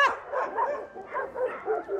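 Dogs at a home shared with more than a hundred dogs give soft, distant barks and yips, several short bursts repeating quietly.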